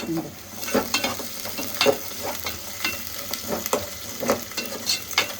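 Garlic fries in oil for okra sambar, a soft steady sizzle broken by repeated rhythmic scrapes and clatters of a spoon stirring in the pan, close and without speech.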